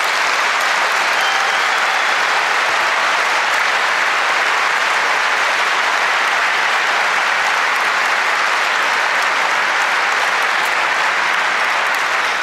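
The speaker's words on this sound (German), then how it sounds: "Dafür bitte ich nochmal um einen großen Applaus." Big conference audience at the 30C3 hacker congress's year-in-review session, applauding loudly and continuously in a dense, steady roar with no gaps.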